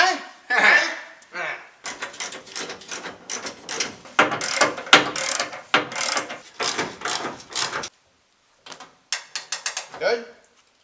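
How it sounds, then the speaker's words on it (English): A car jack being worked under a parts car, with a run of rapid mechanical ratcheting clicks, close and loud, stopping for a moment and then resuming in short bursts. "Here, get the jack out. Push it all the way on, as if you're putting it on."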